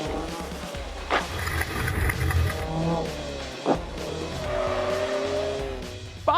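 A Ford Focus rally car converted from automatic to a 5-speed manual runs hard down a high-speed straight, through a hard left and over a jump, its engine rising and falling through the gears with tires scrubbing on the surface.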